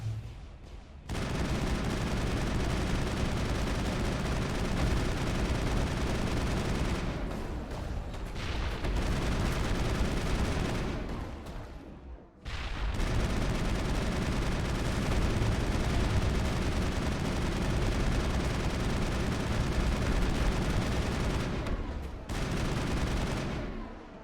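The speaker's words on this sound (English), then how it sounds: "Man, Garrus with the crack shots" Sniper rifle shots with explosive ammo in the video game Mass Effect, a dense, loud, sustained roar of blasts and gunfire, broken by two brief lulls.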